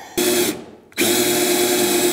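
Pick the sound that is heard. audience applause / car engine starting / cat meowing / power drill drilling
power drill drilling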